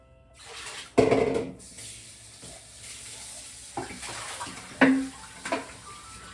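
Leafy greens are swirled in water in a basket in a home kitchen, giving close, soft sloshing and splashing in a few irregular bursts over quiet background hiss.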